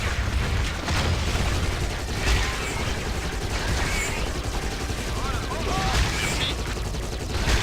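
Gunfire from a standard weapon in a video game, a steady stream of shots and booms running dense and loud throughout, with faint speech underneath.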